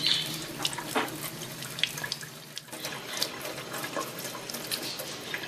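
Tap water runs steadily into a sink while an Indian Ringneck parakeet bathes, with light splashes and a few chirps over the constant hiss of the flow.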